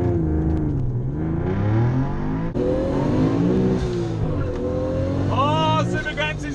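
A Nissan Fairlady Z S30 fitted with an RB26 engine races hard from a launch, its engine note climbing steadily and loud throughout, with voices talking over the roar.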